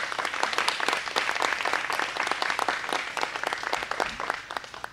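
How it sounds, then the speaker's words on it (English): A crowd at a Teacher of the Year finalist announcement applauds foundation members, with dense, steady clapping that holds for several seconds at moderate loudness and no talk over it. "So just give the foundation members a round of applause, please."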